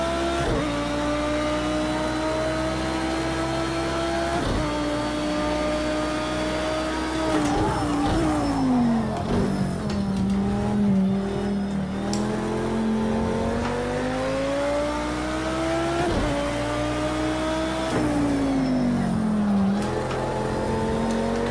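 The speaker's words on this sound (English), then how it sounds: "Just hear the traction control kicking in there." A racing car engine in the video game Project Cars 2 whines through gear changes, rising and dropping in pitch with stuttering cuts as traction control trims power, steady and close throughout.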